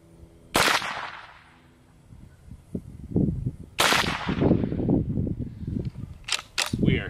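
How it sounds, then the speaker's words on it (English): Savage A17 rifle firing 17 HMR rounds outdoors, two loud sharp reports about three seconds apart, each trailing into a rolling echo, followed near the end by a couple of quicker cracks, with a voice talking between shots. "first up we got our Savage A17 shooting some 17 HMR"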